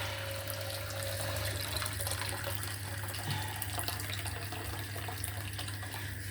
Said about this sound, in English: I'm just going to fill that up.